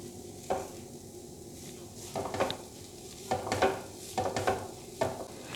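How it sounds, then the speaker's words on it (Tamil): Grated coconut and carrot sautéed in a pan, heard as a series of spatula scrapes and stirring pushes at irregular intervals over a low background sizzle, close and moderately quiet. "இதையும் நம்ம ஒரு 5 நிமிஷத்துக்கு நல்லா வதக்கிக்கலாம்."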